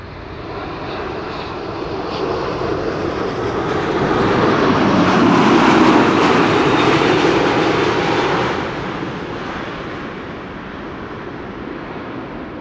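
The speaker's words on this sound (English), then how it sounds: "This is KLM flight 612, also arriving from Chicago O'Hare. This is a 7879 Dreamliner." A KLM Boeing 787-9 Dreamliner arriving from Chicago O'Hare roars past as a broad jet rumble that swells to a loud peak mid-pass, then eases off while staying steady.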